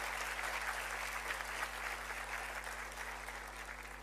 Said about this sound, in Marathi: जोराने टाळ्या वाजवून त्यांचं अभिनंदन करावं.